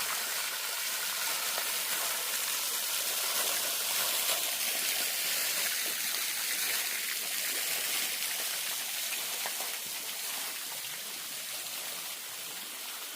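Water pours steadily from an outdoor fountain at a paid garden on a humid day, a continuous broadband rushing and splashing that holds even and fairly close throughout, with no voices.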